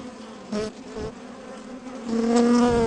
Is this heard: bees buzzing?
yes